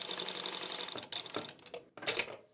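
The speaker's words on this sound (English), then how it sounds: "Now I'm stitching again." A Juki industrial sewing machine stitches fabric in short mechanical bursts, with a brief pause and then renewed stitching, heard close up.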